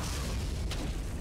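A grenade blast in the World War II shooter Brothers in Arms: Hell's Highway booms as a single low, rumbling burst that fills the short moment.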